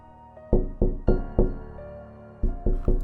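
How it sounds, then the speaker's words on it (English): A hand knocking on window glass beside a bed: seven sharp, resonant raps, a quick cluster of four then a pause and three more, close and loud over a faint tonal hum. "Something, a hand, was knocking on the glass."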